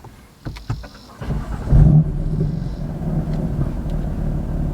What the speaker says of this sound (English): So let's start the car up.